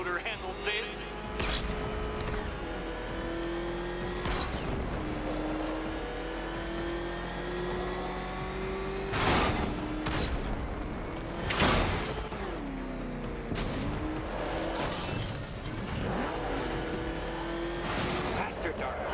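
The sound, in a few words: Batmobile engine revving in the Batman: Arkham Knight video game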